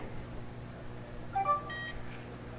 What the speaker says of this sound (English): hopefully the LEDs on this reader will light up and it will beep